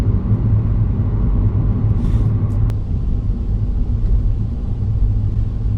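A Renault Sport Clio 172 on the move, heard from inside as a steady, loud low rumble of engine and road noise that runs unbroken throughout, with no talking.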